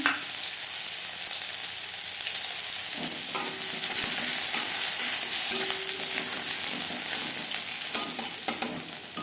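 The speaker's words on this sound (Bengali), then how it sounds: "দিয়েছি একটা শুকনো লঙ্কা দশ সেকেন্ড নাড়াচাড়া করে নেওয়ার পর দিয়ে দেবো রসুন" Dried red chili stirring and frying in hot mustard oil, a steady close crackling sizzle throughout with a few soft scrapes of a spatula in the pan.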